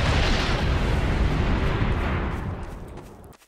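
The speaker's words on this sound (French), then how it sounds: "Explosion!" A big explosion in Garry's Mod, a loud, close roaring blast that fills the moment and then fades out over a few seconds.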